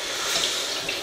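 Tap water pours steadily into an ordinary pan for cooking rainbow trout, a close, continuous hiss of running water with no talking.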